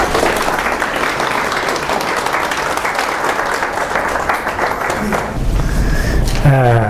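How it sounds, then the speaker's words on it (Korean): A lecture-hall audience applauds steadily for several seconds, welcoming a speaker, a dense wash of clapping that fades near the end as a voice begins. "큰 박수로 환영해 주시기 바랍니다"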